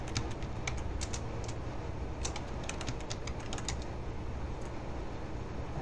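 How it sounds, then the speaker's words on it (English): Rapid keystrokes on a computer keyboard as a password is entered, a run of light clicks over steady room hiss with no talking. "I'm going to type in password."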